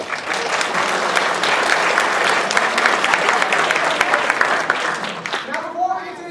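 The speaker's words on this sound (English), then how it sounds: "So I want you all to give them big rounds of applause" Audience at a university chemistry demonstration night bursting into dense, loud, continuous applause that fills the hall, thinning out near the end as a voice begins to speak.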